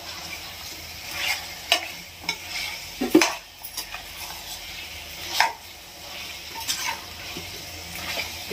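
Green chillies fry in oil in a pan for green masala chicken curry, a soft continuous sizzle broken by clinks and scrapes of a spoon stirring against the metal, close by.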